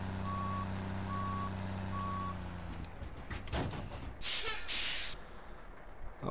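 Reversing beeps sound from a traffic truck in a driving video game, three steady evenly spaced tones over a low engine drone, followed by airy hissing bursts like air brakes as the truck stops.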